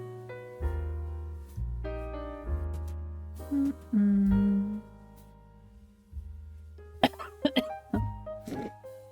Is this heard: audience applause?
no